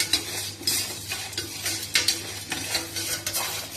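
Chana dal, coriander seeds and spices dry-roasting in a pan, close and continuous with repeated scraping stir strokes and a light crackle.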